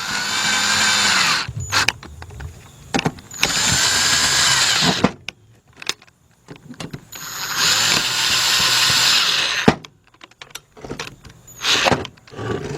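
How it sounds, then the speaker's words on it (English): Cordless impact gun tightening bolts during a timing belt job on a Kia or Hyundai V6: loud whirring bursts of several seconds alternate with short rattling pulses and clicks, up close with no voices. "take my cordless gun, and I'm gonna just go slow."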